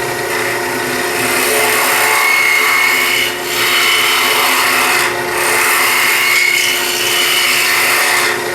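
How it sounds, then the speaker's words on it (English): Gouge scraping and rasping into wood while hollowing out a turned wooden scoop, a steady continuous scratchy cutting sound with two brief pauses, close and fairly loud, no talking. "And then I can begin to hollow. Now, you can do it all with a gouge."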